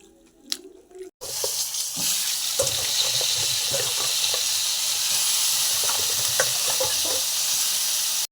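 Food sizzles and fries steadily in a pan, with stirring clicks and scrapes over the hiss, after a brief quieter moment at the start; a dish of gourd leaves fritters is being cooked.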